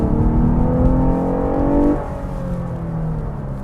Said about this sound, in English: The engine itself is really pretty good, and it makes a really good noise actually when you get on it.